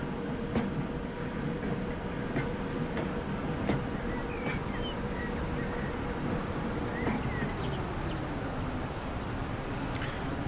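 Tram running through city streets in Transport Fever 2, a steady rumbling rail drive with faint wheel clicks and a long screeching tone as it curves, continuous and moderately loud throughout.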